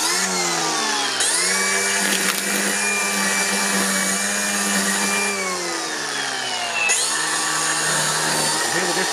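A Dewalt DCM561P1S 18-volt brushless battery strimmer runs on its high setting, a loud steady motor whine with shifting pitch as it revs, dipping and rising again near the end.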